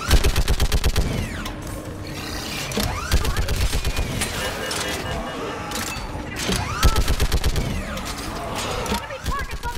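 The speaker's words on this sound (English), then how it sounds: "Keep firing!" Rapid automatic weapon fire in Mass Effect 3 during a battle on Thessia, repeated loud bursts of machine-gun shots with mechanical clatter, pausing briefly between volleys, with voices calling out over the combat.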